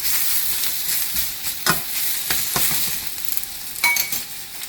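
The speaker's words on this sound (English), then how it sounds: "I'll quickly toss our spinach" Spinach is tossed in a hot pan, sizzling steadily throughout, with several sharp clinks and scrapes from the utensil at irregular moments.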